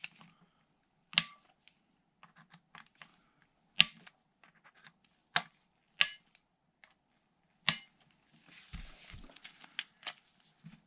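Torque wrench tightening screws to 18 inch-pounds on a Taurus 856 Toro revolver: several sharp clicks as the wrench breaks over, scattered among quieter ticks and small handling noises in a quiet room.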